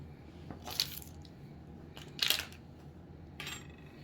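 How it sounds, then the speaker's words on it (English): A pastry brush sweeps egg wash over apple pie cookies in three short, soft, wet swishes spaced about a second apart, quiet against a low background hum. "brush it across the cookies"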